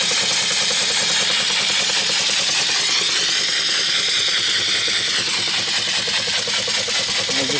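A brand-new live steam engine with forward and reverse runs on its first outing of the day, a steady, loud mechanical churn with rapid rhythmic chuffing, close by and continuous, with no talking.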